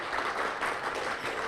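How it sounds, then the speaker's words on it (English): An audience claps together at a Columbia University provost conversation event, a brief, dense burst of applause that holds steady for a moment and stays fairly soft, with no voices over it. "Round of applause for 2024"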